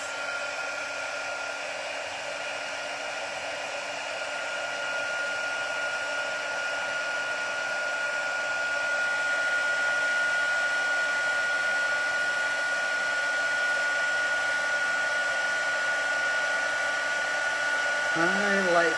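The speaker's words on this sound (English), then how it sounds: "it's gonna get loud for a second, but we're gonna heat emboss." A heat gun blows continuously for heat embossing, a steady loud whirring rush that holds for the whole stretch with no talking over it.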